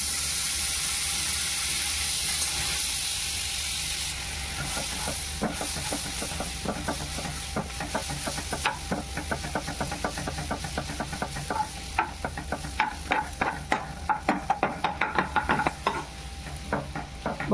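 Butter melting in a hot kadhai after a batch of fried chicken, a steady hiss that grows into busier sizzling and spattering crackles toward the end, close and alone without talk.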